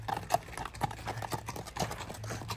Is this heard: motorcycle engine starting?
no